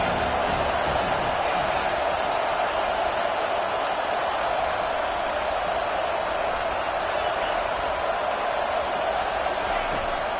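A football stadium home crowd roaring loudly during a game: a dense, unbroken wall of cheering noise that stays steady from start to finish, with a commentator's voice faintly mixed in.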